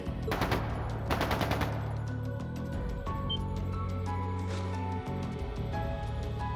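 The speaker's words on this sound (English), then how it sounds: "That sounded like gunfire." Bursts of rapid automatic gunfire crackle early on, two quick volleys, over a sustained droning soundtrack with tonal hums in the video game Trails of Cold Steel II.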